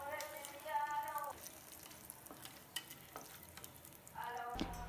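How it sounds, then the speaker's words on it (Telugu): Green and dried chillies fry in oil for lemon rice, a soft crackling sizzle with a few sharp pops and clinks, the frying faint under a brief voice at the start and end. "2 కరివేపాకు వేసి వేయించాలి."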